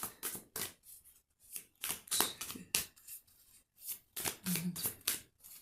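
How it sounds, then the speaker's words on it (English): A deck of oracle cards is shuffled by hand in a quiet room, a series of quick papery riffles and flutters coming in separate bursts with short pauses between them. "I'll do three more shuffles."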